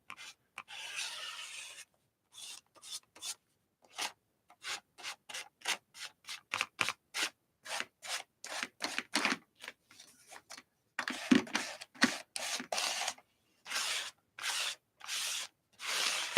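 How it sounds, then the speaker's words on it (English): Thin, watery craft paint scraped across a surface in a long series of short, dry rasping strokes, some quick and clustered, others longer, close up and fairly quiet with brief silences between passes. "when you scrape it like this, it dries really fast"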